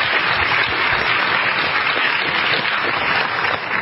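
Loud, sustained audience applause fills a debate hall, a dense continuous clatter of many hands clapping without a break.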